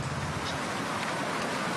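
Rain falls on a rough rural road in the mountains, a steady, diffuse hiss of drops on wet ground that stays even throughout, with nobody speaking.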